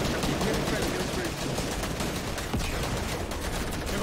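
Dense, continuous automatic gunfire sprays at close range during a Fortnite tournament match, a steady rattle of rapid shots filling the whole stretch with only brief dips in intensity.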